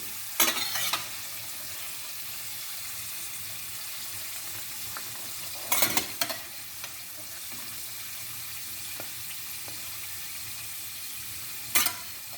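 Soft steady sizzling of chips frying in hot lard, with a few brief louder crackles and scraping bursts, quiet and close.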